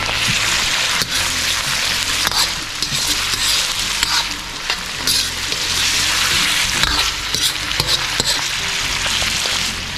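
Pork and chicken sizzle loudly in oil in a pan for adobo, a dense continuous frying hiss with occasional stirring clatter and spatters, close up and without speech.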